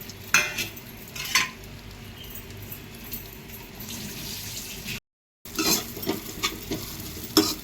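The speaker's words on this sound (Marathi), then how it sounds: "एक चमचा तूप घालू आणि आपण जो आपल्याकडे असलेला सुकामेवा त्याला लाल असा भाजून घेऊ" Dry fruits roast in a spoonful of ghee in a pan, with a steady sizzle and frequent stirring scrapes. The sound cuts out for a brief gap and then resumes.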